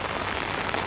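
Steady rain pattering on a surface at a used car lot, a dense continuous hiss with no voices.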